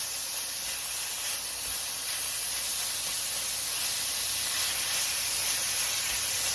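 Beef browns in a hot pan for sweet and sour beef, giving a steady, even sizzling hiss that holds at constant level throughout, with no voices.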